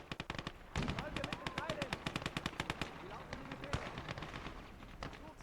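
A Maxim machine gun fires in a war video game's conquest battle, delivering long, rapid bursts of loud, sharp, evenly spaced shots with brief pauses, over background battle noise.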